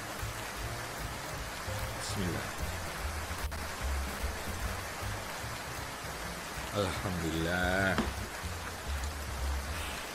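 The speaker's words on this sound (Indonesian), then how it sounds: "suasana di luar lagi hujan deras" Heavy rain falls steadily outside as a constant, dense hiss throughout, while someone speaks briefly over it.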